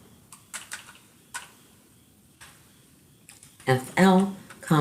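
Computer keyboard keys tapped in a few short, scattered bursts at close range, with a voice talking over the end of the clip.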